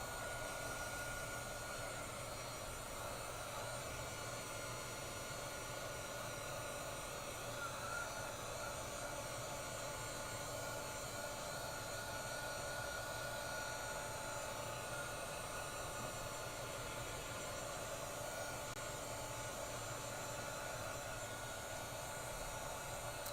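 A heat tool blows steadily and loudly for the whole stretch, a constant whooshing roar setting water reactive paper that has soaked up colors, with no talking over it.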